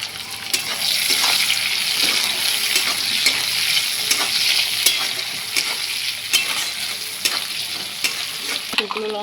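Onions and tomato for crab curry fry and sizzle loudly in a pan, with a continuous crackle broken by repeated sharp stirring scrapes and taps, up close and without speech.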